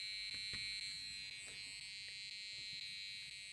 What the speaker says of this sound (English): the piezo buzzer will make a sound, and it will change the frequency depending on how loud it is